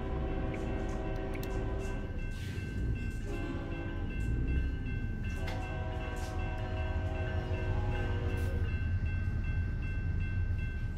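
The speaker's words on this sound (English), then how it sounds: "Another train." A train passing in the video game American Truck Simulator in Oklahoma, with a steady rolling rumble and clicking wheels, plus repeated horn-like tonal blasts rising and falling over the continuous noise, with no talking.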